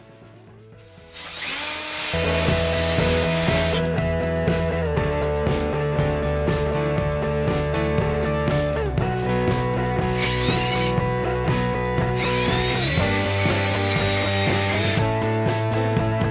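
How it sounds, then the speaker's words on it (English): A power drill whirs at close range in long sustained bursts, its pitch dipping and rising as it drives a screw into a wall to hang a shelf, with brief pauses between runs. "Now I screwed that screw in"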